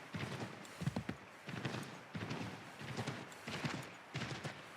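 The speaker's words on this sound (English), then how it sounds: "Otherwise the horse will go so far and then it won't go any further." Horse hooves clip-clop in Assassin's Creed III, a steady galloping rhythm of grouped hoofbeats repeating about every second, moderately loud and close, with no speech.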